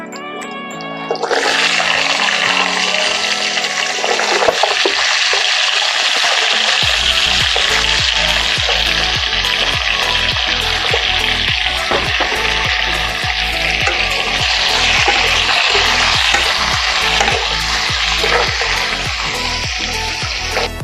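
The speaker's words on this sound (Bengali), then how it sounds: "ফোড়নটাকে একটু নাড়াচাড়া করে নিয়ে কেটে রাখা আলুর টুকরোগুলো ভেজে নেব।" Potato pieces fried with a cumin tempering, a loud pour-in splash followed by a dense, steady sizzle of hot oil with rhythmic stirring scrapes, close up and with no voices.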